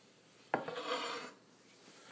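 A knife rocks through mirepoix vegetables on a wooden cutting board in one quick chop followed by a short rasping scrape, close and fairly quiet, then near silence.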